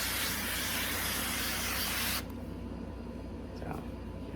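A can of cooking spray hisses steadily and forcefully for about two seconds into a baking pan, then cuts off, leaving quieter background noise with a faint voice.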